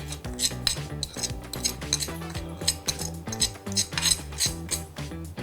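A spoon stirs chicken panang with coconut milk, seasoning and mushrooms in a pan, giving steady busy scraping and clinking against the metal at close range, with no talking.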